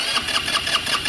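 Fuel pump of a fuel-injected scooter running just after the key is turned, a short, steady mechanical whir with a faint pulsing rhythm, close and moderately loud, heard alone.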